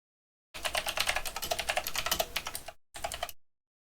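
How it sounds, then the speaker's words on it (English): Rapid, loud computer keyboard typing, a dense run of close clicks lasting about two seconds, then a brief pause and a short final burst of keystrokes, with no talking. "Oh, you may hear a loud keyboard."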